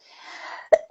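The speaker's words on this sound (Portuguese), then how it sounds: "É tosse alérgica" An allergic cough: a short breathy exhale followed by two quick, sharp coughs, close and loud, ending the brief moment.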